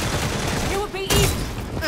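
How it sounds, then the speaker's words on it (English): A shotgun fired in the vampire shooter Redfall: one sharp, loud blast near the end of a short stretch of noisy game action, with a voice calling out just before it. "Dude, the shotgun's amazing."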